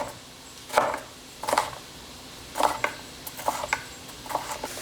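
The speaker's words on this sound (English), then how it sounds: "I'm just gonna cut them the other way so that they're kind of just like tiny cubes" Knife chopping sweet potatoes into small cubes on a cutting board, a series of crisp, close blade knocks spaced irregularly, some single and some in quick pairs, over quiet room tone with no talking.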